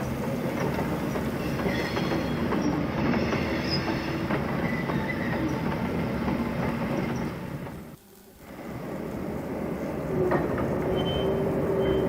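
A model BR Class 12 0-6-0 diesel shunter locomotive runs steadily with a whirring motor hum and faint wheel clicks, briefly dropping away before resuming at a similar level.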